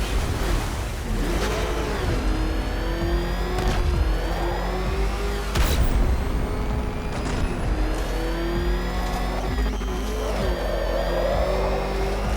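A car engine revs and roars in Batman: Arkham Knight, loud and continuous throughout, with the pitch climbing and dropping in surges over a steady low rumble and a few sharp transient hits.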